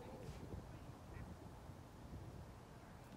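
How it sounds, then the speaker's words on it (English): Ducks swimming on freezing water surrounded by ice, with faint, distant quacking set against a constant low wash of outdoor ambient noise. "The ducks are swimming in the"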